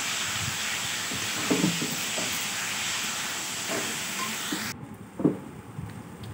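Ginger, garlic and chilli paste frying with onions in a pan for a mutton curry, giving a steady broad sizzling hiss that cuts off abruptly near the end, followed by a few soft clinks.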